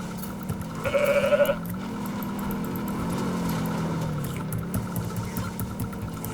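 Goat bleating in a GTA game: one clear, nasal bleat of about half a second, loud against a quiet background of game ambience.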